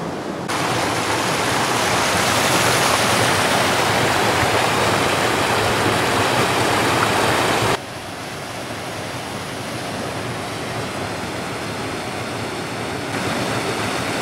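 A small mountain river rushes steadily over rocks in open hill country, a loud, continuous broadband flow heard close up with no voices, dropping slightly in level partway through as the position shifts.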